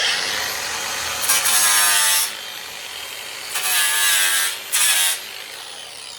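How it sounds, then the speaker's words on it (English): Angle grinder taking mill scale off steel edges, a close high-pitched whine with three louder bursts as the disc bites the metal between steadier running stretches, no voices. "I do want to take off the mill scale with a grinder."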